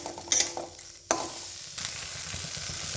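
Bean pakora filling stirred as it fries in a pan, a few scraping clatters of the spoon early on, then a steady close sizzle with light stirring noise continuing to the end.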